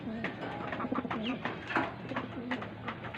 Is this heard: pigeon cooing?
yes